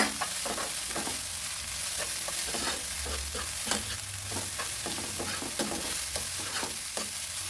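Jackfruit rags toran fries in a pan and gets stirred, with a steady sizzle underneath and repeated scraping strokes of the spoon close up, and no one speaking.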